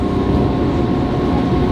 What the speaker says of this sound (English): So currently on a train to